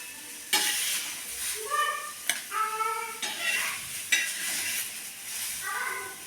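Onions and chillies sizzle and fry in a pan while being stirred, with a steady close-up crackle broken by repeated scraping strokes and a few sharp clinks of the utensil against the pan.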